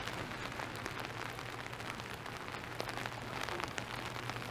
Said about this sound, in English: it's supposed to be raining pretty much all throughout the day.